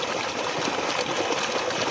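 A 5HP CRI motor pump discharges water through a 3-inch pipe at a well, a dense, steady rushing gush with a constant mechanical hum beneath.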